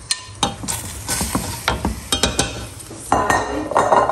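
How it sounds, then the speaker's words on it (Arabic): Onion tossed onto chicken in a pot sizzles while a spoon stirs with repeated scraping clinks against the metal, the frying hiss swelling louder near the end. "نجبد دابا ديك البصله ونطيحها فوق منا باش يطيب يطيب لي الدجاج مع البصله"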